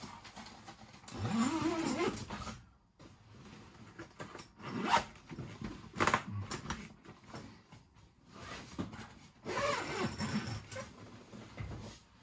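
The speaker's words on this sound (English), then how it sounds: "You just zip it back up." Zipper run along a genuine Honda fabric mid panel on a Honda Pioneer 1000-5 cabin enclosure, several rasping zip strokes in bursts with pauses between them, close and fairly loud with no talk.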